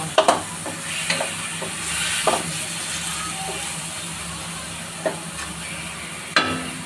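Chicken liver adobo with pechay cooking in a pan gives a steady sizzle and simmer, with a few sharp clinks and stirring knocks scattered throughout. No one speaks.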